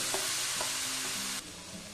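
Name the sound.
onions frying and being stirred in a pan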